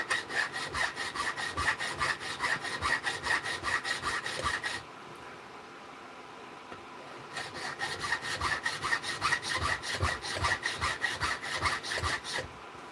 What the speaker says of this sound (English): I'm taking these brass pins down to a manageable size so I can peen them.